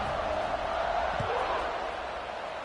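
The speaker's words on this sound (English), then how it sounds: "this crowd is buzzing after that last score" A football stadium crowd at a Buffalo versus East Carolina college game gives off a steady, distant murmur and buzz, with a faint thump partway through.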